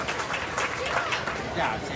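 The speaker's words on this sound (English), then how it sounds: "Give him a round of applause" Dense, steady clapping from a county fair mutton bustin' crowd, loud and continuous throughout with a general crowd roar underneath.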